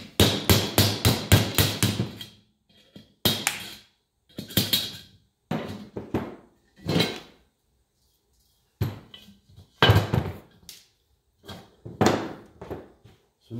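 Sharp metallic hammer blows punch out the inside of a Ford Model A headlight, a rapid burst of close loud strikes followed by irregular single and paired knocks separated by pauses.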